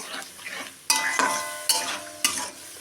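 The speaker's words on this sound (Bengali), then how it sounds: "মটরশুঁটিটা দিয়ে আমি নাড়িয়ে চাড়িয়ে নেব, ভালো করে নাড়িয়ে নেব।" A spoon stirs sauce and peas into a broccoli mixture in a pan, four distinct scraping strokes landing at a steady pace over a soft background sizzle, close and fairly loud with no talking.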